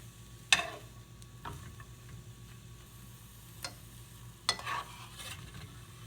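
Brussels sprouts cooking in a pan on the stovetop, stirred with a few sharp scrapes and clacks of the utensil over a steady, soft sizzle, spaced irregularly a couple of seconds apart.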